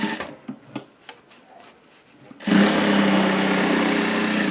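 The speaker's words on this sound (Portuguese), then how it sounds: "E vamos rebater essa costura." Sewing machine topstitching a seam on a fabric mask pouch, starting abruptly after a few soft handling clicks and then running steadily and fairly loud for about two seconds.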